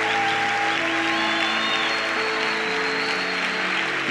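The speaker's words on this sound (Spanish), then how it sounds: "Si va a aplaudir, aplauda con gusto." Congregation applauding during a church sermon, a steady, dense wash of clapping filling the room without letup, with sustained musical tones running underneath.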